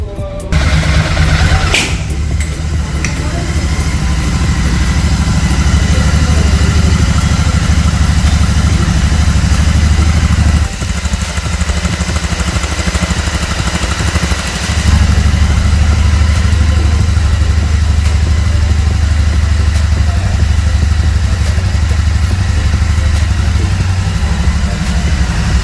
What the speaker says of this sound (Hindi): तो कुछ इस तरह की भारी भरकम यहाँ से आपको एग्जॉस्ट नोट से सुनाई देगी, तो लगेगा कि आप सुपर मेट्योर बाइक राइड कर रहे हो